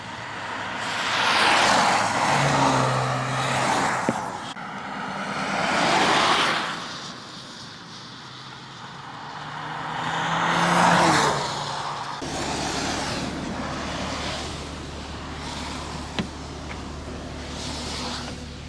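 A VW Golf R passes by on a wet road in the rain, with engine noise and tyre spray swelling and fading in several passes, then a steadier low rumble toward the end.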